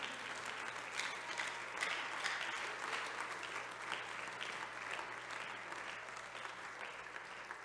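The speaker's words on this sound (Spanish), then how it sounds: "Denle ese aplauso fuerte al Señor" A church congregation gives quiet, sustained applause, a soft and continuous patter of many hands heard at a distance with no voices over it.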